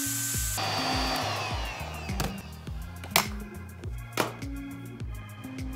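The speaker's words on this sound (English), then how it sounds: "a safer method is to use a heat gun" A heat gun shrinks heat-shrink tubing over soldered wires, giving a steady airy blowing roar close by, with a faint rhythmic clicking underneath.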